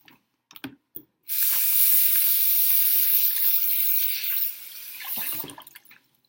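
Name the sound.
washing hands under running tap water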